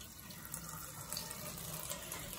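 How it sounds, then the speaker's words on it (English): Water runs steadily from a hot bathroom tap into a sink, a constant splashing hiss with no talking. "I'm going to turn the water on"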